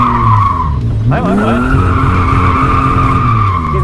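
A car skids around a traffic cone on a practice course, tires squealing loudly and continuously with engine noise underneath, while a voice urges the driver on.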